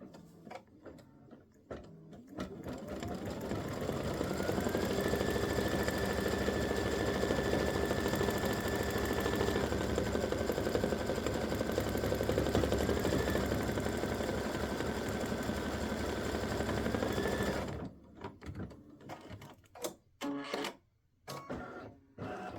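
An embroidery sewing machine triple-stitches leaf veins in dark green thread, a rapid mechanical whirring with a rising motor whine that holds steady for over ten seconds, then stops, followed by a few clicks and taps.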